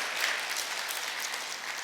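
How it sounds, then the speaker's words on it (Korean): A church congregation applauds during a Sunday worship service, a steady wash of many hands clapping at moderate volume and slightly distant, with no voices. "우리가 이분들에게 다시 한번 감사와 격려 박수를 우리가 드리도록 하겠습니다"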